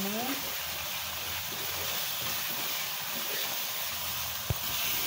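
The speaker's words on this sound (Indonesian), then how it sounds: "kita aduk-aduk atau goreng dulu bumbunya hingga matang ya" Balinese ayam betutu spice paste frying in a pan, a steady, soft hiss and sizzle running throughout with faint stirring clatter, no speech.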